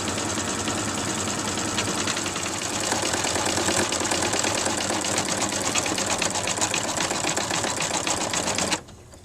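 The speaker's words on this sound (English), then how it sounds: "you just sew out the last stitch. This is going to sew around the outside about 3 times" An embroidery sewing machine stitches rapidly around an in-the-hoop coin purse, a loud steady mechanical chatter of the needle that runs for several seconds and then stops abruptly near the end.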